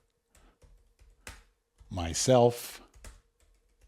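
Computer keyboard typing comes through as a few scattered, sharp key clicks, with a person talking briefly in the middle.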